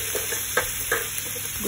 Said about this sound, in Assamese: ঘি চামুচত নৰসিংহৰ পাতকেইটা পেলাই দিলোঁ পেলাই দি এইখিনি অলপ ভাজি ল'ম